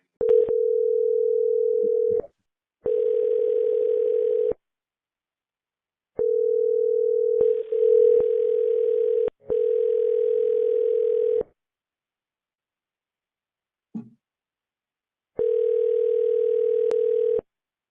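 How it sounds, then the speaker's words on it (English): Steady telephone dial tone heard while a call is placed, sounding in several separate stretches of one to four seconds with silent gaps between them, loud and clear, with no talking. "I'm dialing right now"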